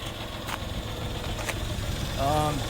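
The rear-mounted engine of a 1995 Honda Acty fire truck conversion idles with a low, steady rumble, joined by a few faint clicks and a brief tonal sound near the end.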